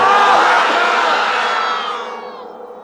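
A large crowd at a Bangla religious sermon roars a unified takbir chant, a loud sustained shout of many voices that swells at first, then fades away over a few seconds.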